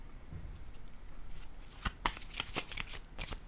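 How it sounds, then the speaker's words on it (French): Tarot cards are shuffled and laid down close by, a quick flurry of soft riffling clicks and snaps over a faint, quiet background. "Je vais déposer une carte encore."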